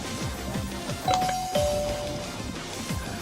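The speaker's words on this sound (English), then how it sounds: "The doorbell rang." A doorbell chimes twice, two clear tones over a busy layer of game music and sound effects.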